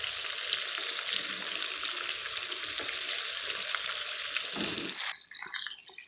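Chicken frying in a pan until golden, with a dense, even sizzle and crackle that holds steady, then a brief bump and a sudden drop near the end, no voices.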